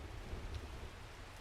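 Rain with a low thunder rumble in the video game Strange Horticulture, a steady wash of rainfall over deep rolling bass, heard alone with no speech.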